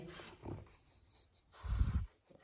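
A dog pants and snorts nearby, soft breathy huffs with a heavier burst of snuffling near the end, with no talking.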